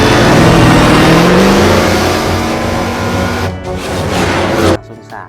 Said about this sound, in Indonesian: ini dia mobil balap Lightning McQueen.